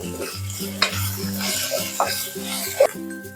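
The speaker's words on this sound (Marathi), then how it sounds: "कांदा आपला छान असा भाजून झालेला आहे तर आपण याच्यामध्ये बारीक केलेलं वाटण घालून घेऊयात छान असं परतून घेऊयात" Ground masala paste being sautéed with fried onions for egg kheema masala, with steady sizzling and several sharp spatula knocks against the pan over a rhythmic, pulsing background tone.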